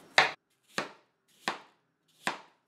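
Four sharp knife chops on a cutting board as apples are coarsely chopped, evenly spaced and close, with clean silence between strikes.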